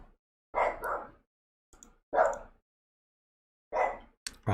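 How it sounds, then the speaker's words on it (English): A dog named Rocky barks in short separated bursts, three or four sharp barks at a moderate distance in an otherwise quiet room. "Rocky's barking"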